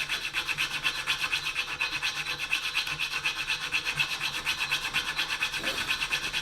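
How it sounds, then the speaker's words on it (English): A hand file rasps back and forth over a metal jaw harp part in quick, even strokes, close and continuous throughout with no talking. "A little bit of filing."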